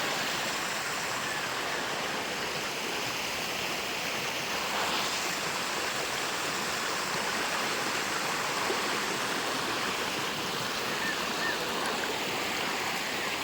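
Steady rushing of stream water flowing through a forest, broadband and continuous at close range throughout, with no voices.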